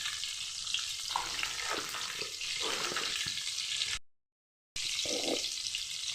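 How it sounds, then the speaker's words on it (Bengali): Eggs frying in mustard oil with turmeric and chili give off a close, hissing sizzle with soft stirring scrapes, broken by a brief total silence before the frying resumes. "আমি ডিমটাকে একটু লাল করে নেব সর্ষের তেলে দিয়ে"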